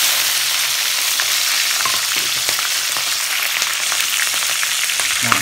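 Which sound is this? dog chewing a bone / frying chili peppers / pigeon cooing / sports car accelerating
frying chili peppers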